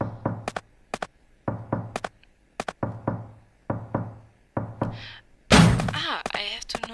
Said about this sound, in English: I have to knock 3 times